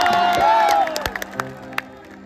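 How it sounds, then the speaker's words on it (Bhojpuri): Clapping from a crowd fades out after a strong tonal swell, leaving a few scattered claps and faint background murmur. "तनी दोनों हाथ उठा के जोरदार ताली बजा दो भैया"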